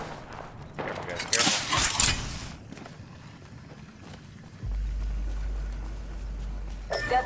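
Bursts of rapid gunfire from a squad-based video game shooter crackle loudly for a couple of seconds, then give way to a low, steady rumble with scattered smaller clicks and a brief sharp burst at the end.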